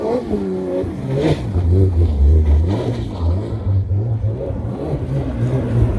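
Porsche 992 GT3 RS spinning donuts on snow, its engine revving and bogging in uneven surges, loud and close, with wheelspin wash and a brief voice or two mixed in.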